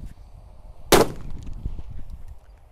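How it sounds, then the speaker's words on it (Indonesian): A mercon petir firecracker set off inside a hole in the ground gives one sharp, loud bang, followed by a brief rumbling tail over a low background murmur. "Namanya mercon petir, guys. Kita nyalakan di dalam lubang tanah, guys."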